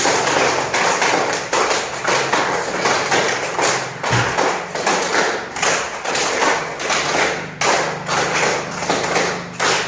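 Fifth-grade schoolchildren in a classroom clap in unison in a steady counted rhythm, a long run of regular, loud, closely miked claps repeating evenly with no talking over them.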